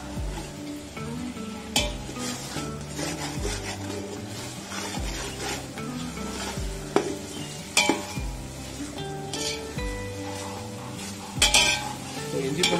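Ginger and garlic frying in a pan on a medium flame for a mutton biryani, with a steady sizzle and occasional stirring and utensil clinks running beneath louder rhythmic background music.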